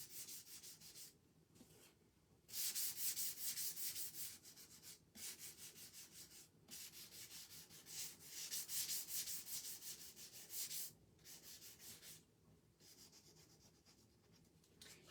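Sandpaper rubs along the edges of a painted wooden heart frame in a French rose pattern, a close, steady scratchy hiss in long strokes broken by brief pauses.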